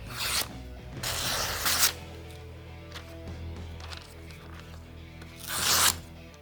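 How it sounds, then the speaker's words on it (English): A freshly sharpened knife slices through flimsy magazine paper, giving several rasping, swishing tearing strokes, close and fairly loud, with quieter rustling between them. "Let's see how this cuts the magazine paper."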